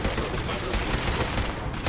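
Dense, continuous gunfire from the Fallout 4 video game, loud and harsh with rapid overlapping shots filling the whole moment, no speech.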